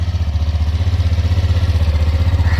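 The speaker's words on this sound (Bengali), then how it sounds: "এখানে আমাদের বাইক স্টার্ট দিয়ে দিয়েছে" A 125 cc motorbike engine idles steadily after starting, a close, loud, even low throb with rapid regular firing pulses that run throughout.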